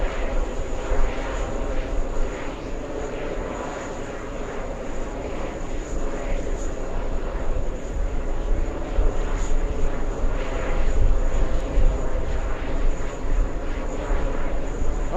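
An airliner crosses the runway at an airport, its engines producing a steady distant roar and whine that holds throughout at moderate loudness.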